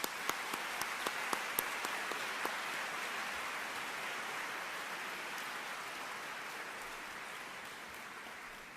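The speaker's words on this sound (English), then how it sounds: "Give them an applause" Soft, distant audience applause at an academic conference's opening plenary session in a large hall, a few sharp nearby claps at first, then a steady even patter that slowly fades.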